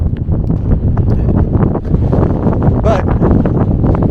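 Gusty wind buffets the microphone on a desert hiking trail, a loud, continuous rumbling roar with rapid fluttering surges and no pause.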